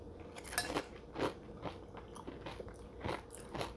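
Crunchy almond cereal is chewed up close, with several sharp, crackling bites and crunches spaced irregularly over a few seconds, quiet overall and no talking.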